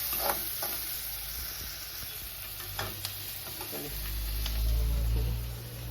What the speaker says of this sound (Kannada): ಚಕ್ಕೆ, ಲವಂಗ ಫ್ರೈ ಮಾಡ್ಕೊತಾ ಇದ್ದೀನಿ.